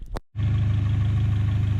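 A third-generation Honda Prelude engine idles steadily and loudly up close after a brief noise, with a low, even rumble and no voices over it.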